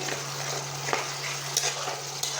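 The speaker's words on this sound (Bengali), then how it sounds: "এখন মশলাগুলো দিয়ে কষাবো" Spices frying in hot oil for a homemade mango pickle give a steady, close sizzle with faint stirring clicks and a low hum underneath.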